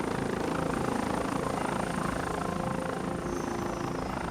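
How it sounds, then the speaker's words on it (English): A helicopter arriving to airlift an injured biker from a snowy Highland roadside scene, its steady rotor roar loud and continuous throughout with no voices. "When the helicopter arrives to airlift the biker to hospital, Stephen has to keep tight control of the sc"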